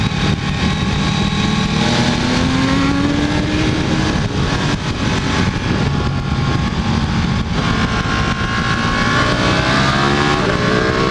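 A sport motorcycle roars around a race track, its loud engine note rising and falling through shifts under a heavy, constant blast of wind noise close to the rider.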